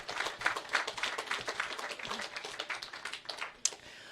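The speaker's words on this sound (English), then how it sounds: "round of applause, please" An audience at an Angus bull sale gives a moderate round of applause, a patter of scattered hand claps that thins out toward the end.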